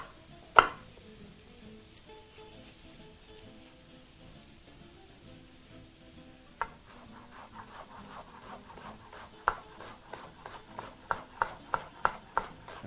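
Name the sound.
knife finely chopping onion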